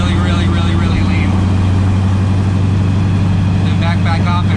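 A supercharged NASCAR race car engine runs steadily at a low, lean idle on a very cold day, a loud, deep droning rumble with a constant throbbing tone that never lets up.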